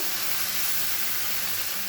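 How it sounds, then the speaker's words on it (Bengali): Water is poured onto frying catla fish, making a loud, continuous sizzling hiss that rushes steadily throughout the clip. "আমার এগুলো সব ভাজা হয়ে গেছে, এবার জল দিয়ে দিচ্ছি"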